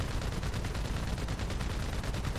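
Rapid gunfire in GTA V, a dense sustained burst of automatic shots firing in quick regular succession, loud and close with no talk over it.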